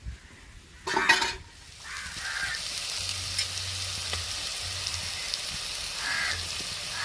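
Dried fish tossed into a pan of sautéed onions sets off a loud burst of sizzling and stirring, which settles into a steady frying hiss, with crows cawing faintly outdoors.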